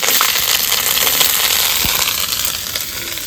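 Cumin seeds and dried chillies sizzle loudly in hot tempering oil, giving a close, dense crackling hiss that fades slightly toward the end.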